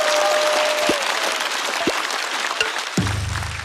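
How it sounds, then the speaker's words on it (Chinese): A stand-up comedy show audience applauds a performer after a vote count. A loud, continuous wash of clapping carries throughout, with a few sharp sounds and a brief musical tone entering near the end. "再次掌声送给小帕"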